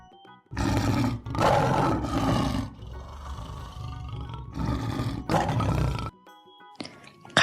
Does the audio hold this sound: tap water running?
no